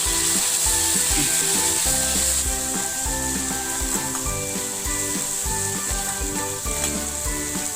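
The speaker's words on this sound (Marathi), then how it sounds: "त्यामध्ये आपल्याला ही पेस्ट घालायची आहे लसण आणि कोथिंबीरची पेस्ट आपल्याला छान परतून घ्यायची आहे" Garlic and coriander paste sautéed with onion in a pan gives a steady, bright sizzle throughout, with rhythmic music-like tones playing underneath.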